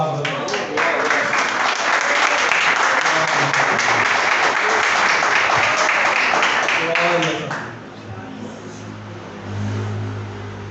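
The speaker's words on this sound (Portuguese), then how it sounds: "Aplauda uma palavra." A church congregation applauding loudly for several seconds, a dense wash of clapping that cuts off abruptly and gives way to low room sound and a voice.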